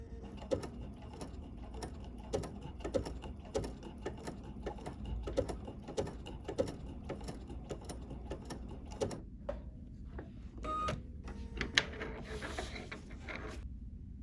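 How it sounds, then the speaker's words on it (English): A BERNINA 880 PLUS sewing machine stitches gently at an even pace while a bling bracelet is sewn into position, its rhythmic mechanical ticking close and clear, then stopping and giving way to a few handling clicks. "So now we're going to gently sew this one into position."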